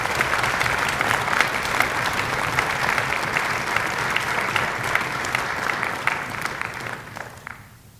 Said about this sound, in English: I'd like to give them all a big round of applause